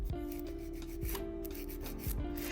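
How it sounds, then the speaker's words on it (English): A hand file scrapes repeatedly across a gel nail tip, filing off old gel and shaping the corner, in quiet, rhythmic back-and-forth strokes with a faint steady hum underneath and no talking. "file that off and shape up the corner as well."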